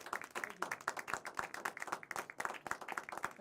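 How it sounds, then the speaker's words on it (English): Audience applause for a live band performance, a scattered patter of hand claps at moderate level, fairly close, with no talking over it. "Give him a round of applause one more time."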